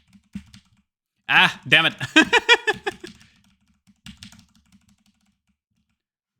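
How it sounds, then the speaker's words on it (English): Computer keyboard typing in short bursts of clicks, close by, with a person speaking briefly over the keys. "Keyboard ASMR."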